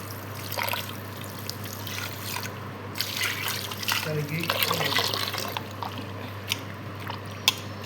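Water trickles and splashes into a bowl of cream while butter is being made by hand, a light uneven pouring with drips, close by under a steady low hum.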